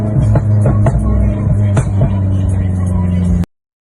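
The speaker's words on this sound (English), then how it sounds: "That's what a straight through exhaust sounds like on a Focus RS." A Ford Focus RS Mk1 engine with a straight-through exhaust rumbles loudly and close with a deep, raspy exhaust note, rising in short revs before cutting off abruptly.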